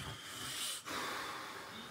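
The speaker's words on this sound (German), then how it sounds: "Du schnarchst so unfassbar laut." A person snores loudly in a rough, breathy rasp that continues with only a brief pause, close by and with no talking.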